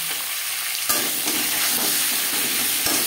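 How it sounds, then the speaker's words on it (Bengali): Potatoes tossed with salt and turmeric in a frying pan, a steady loud sizzle with a few sharp scrapes of the spatula against the pan, close up and without any talking. "লবণ হলুদ আলুর সাথে বেশ ভালো করে মিক্স করে দেব"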